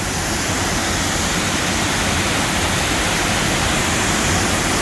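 Wequiock Falls near Green Bay, Wisconsin, heard from up close: a loud, dense, unbroken roar of falling water filling the whole clip with no voices.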